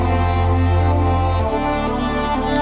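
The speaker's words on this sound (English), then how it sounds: "if now we're gonna play all the melodies we made all together as one arrangement, it's gonna sound like this" Layered synth melodies and a deep sustained bass play together as one electronic arrangement built in Logic Pro X, loud and continuous throughout with no voices.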